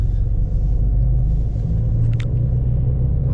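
Interior drone of a Peugeot with a 1.6 engine and manual gearbox on the move, a steady, loud low rumble with a faint brief chirp partway through and no talking.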